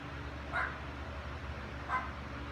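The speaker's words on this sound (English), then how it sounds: "Even the neighbor's dog's excited." A neighbor's dog barks at a distance outside a garage, two faint, separate barks about a second and a half apart over low background noise.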